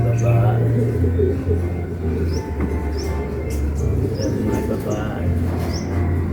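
Racing pigeons arrive over a loft at the end of a 219 km race, with repeated cooing and soft bird calls against a low steady hum and background murmur as people talk nearby.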